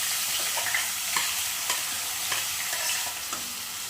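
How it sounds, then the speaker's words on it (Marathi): Onion, capsicum, garlic and ginger fry in hot oil for a pav bhaji tempering, giving a steady close sizzle with repeated scraping stirs of a spoon against the pan, no voices. "कांदा ढोबळी मिरची लसूण अद्रक आहे ते आता फोडणीला टाकायला लागले"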